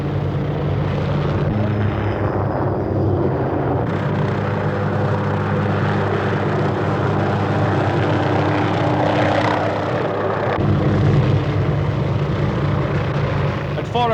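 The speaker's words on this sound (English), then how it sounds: "4 Cobra helicopter gunships armed with rockets accompanied him." Four Cobra helicopter gunships armed with rockets flying in wartime Vietnam, a steady loud rotor and engine drone that runs continuously throughout with little change.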